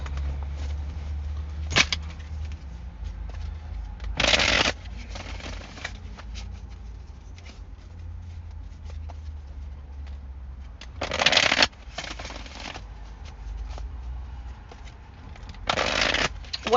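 A deck of oracle cards shuffled in several separate bursts, each a brief papery riffle close by, with quiet pauses between them and a low steady hum underneath.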